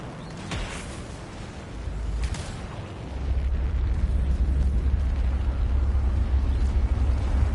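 A heavy blast erupts in the sci-fi action game Anthem, followed by a second burst and then a deep, sustained rumble that swells and lingers at moderate loudness with no talk over it.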